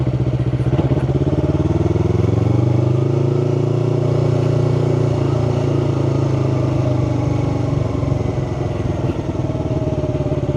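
A Yamaha R3 sport motorcycle engine drones loud and close under the rider, holding a steady mid-pitched note that rises and settles as the throttle rolls on and off through a gear shift.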